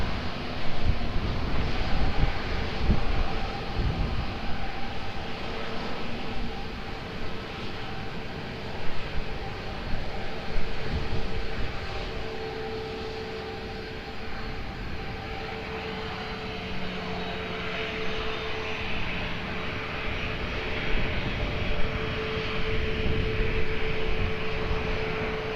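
An airplane engine roars at Lisbon Airport near runway 20 as a Lufthansa jet is cleared for takeoff, a sustained broad drone with wind buffeting that swells and fades over the span.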